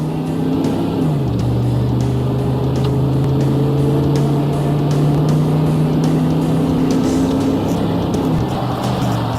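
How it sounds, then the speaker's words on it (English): A car with a 4L80E automatic transmission fitted with a TransGo performance shift kit pulls under three-quarter throttle, its loud engine drone rising and then dropping in pitch at firm upshifts, close and steady throughout. "Now try some upshifts at 3/4 throttle to see how the shifts get firmer with throttle"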